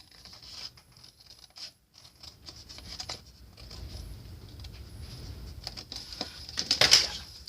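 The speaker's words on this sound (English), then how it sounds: "I'm literally just going to cut that down cut that whole piece off." Scissors or a blade cut through a scored piece of paper for a notepad cover, giving soft close-up snipping and scratching in several short strokes that grow slightly louder toward the end.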